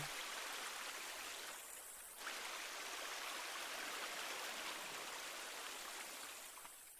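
Steady rushing of a water stream in The Forest video game, a continuous even wash of flowing water at moderate level with no voices.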